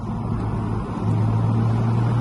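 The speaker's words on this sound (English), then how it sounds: "It is a peach of an engine." A BMW Z4 E85 2.5Si roadster's engine hums steadily under load while driving, a low continuous drone that swells slightly louder partway through, with no talk over it.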